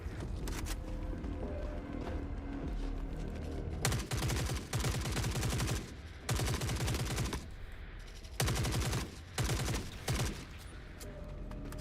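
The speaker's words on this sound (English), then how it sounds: "I actually haven't used the unsilenced RPK in so long. It actually sounds pretty good." Unsilenced RPK machine gun firing in the video game Forever Winter, loud rapid automatic bursts separated by short pauses, close and dominant over a low rumbling game background.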